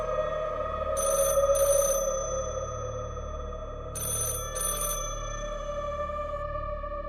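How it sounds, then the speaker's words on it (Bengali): A landline telephone rings in two double bursts, a pair near the start and another pair a few seconds later, over a steady low hum and a sustained tone, with no speech. "ল্যান্ডলাইনটা বারবার বেজে যাচ্ছে।"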